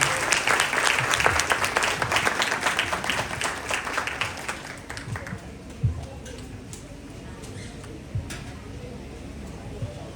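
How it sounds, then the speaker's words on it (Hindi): Congregation at a Palm Sunday church service breaking into loud applause that gradually thins into scattered claps and a few sharp knocks, with voices mixed in. "आप सबकी भरपूर तालियों के साथ"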